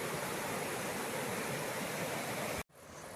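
Continuous rushing roar of Cachoeira da Torre, a waterfall in the Serra do Mar mountains, loud and unbroken until it cuts off abruptly near the end, leaving only quieter ambience.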